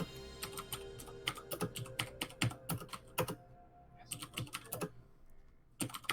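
Rapid, loud clacking of a computer keyboard, keys struck in quick irregular bursts with brief pauses, close by and with no voices.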